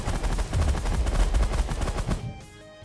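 A minigun in The Last Federation fires a rapid, loud, continuous stream of shots for about two seconds, then stops abruptly, with no talk.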